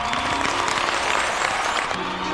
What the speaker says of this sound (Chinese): 来，掌声欢迎。